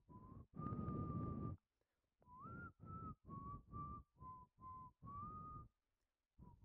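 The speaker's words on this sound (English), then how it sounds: "Hey, I know that whistle." Sonic the Hedgehog whistles a tune in the Mario & Sonic video game, a clear melodic run of separate notes with short gaps between phrases, bright and close.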